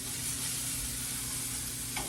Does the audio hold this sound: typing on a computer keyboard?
no